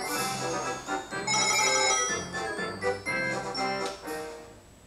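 A mobile phone ringtone plays loudly and steadily, a repeating melodic pattern of bright electronic tones running throughout with no talk over it.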